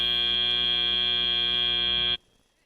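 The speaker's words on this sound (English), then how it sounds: "As we hear that buzzer now." A loud, steady electronic match-end buzzer at a robotics league meet blares for about two seconds and cuts off abruptly, leaving near silence.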